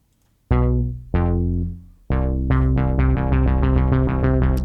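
A deep synthesizer bass plays sustained, harmonically rich notes. Two held tones are followed by a faster run of repeated, pulsing notes, loud and alone.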